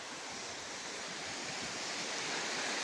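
A mountain waterfall cascades beside a hillside temple in a village valley, making a continuous, full rushing roar that holds steady and slowly swells, with nobody speaking.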